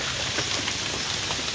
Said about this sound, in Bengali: এখনো বৃষ্টি পড়েই যাচ্ছে